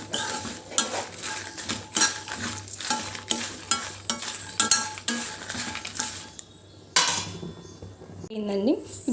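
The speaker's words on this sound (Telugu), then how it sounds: "ఇందులో సగం నిమ్మకాయ సైజు చింతపండు అండి రెమ్మలుగా చేసేసి వేసుకుందాము. దీన్ని కూడా ఫ్రై చేసుకుందాం." Tamarind pieces stirred and fried in a pan while making a black chutney powder for idli and dosa, with repeated clinks and scrapes of a spoon against the metal over a low sizzle, then a short pause and more stirring.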